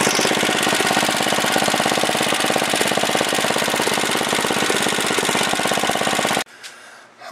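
A Murray lawnmower engine with a newly replaced carburetor runs loud and close, a rough, rapid rhythmic chugging held steady for several seconds before cutting off abruptly.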